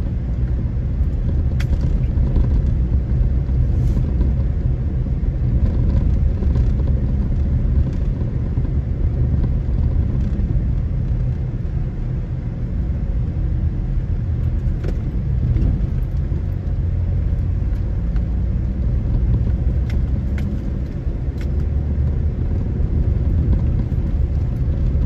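Car ride along a bumpy road in Red Hills, St. Andrew, Jamaica, with a constant low engine and road rumble inside the cabin and occasional small rattles and thumps from the bumps.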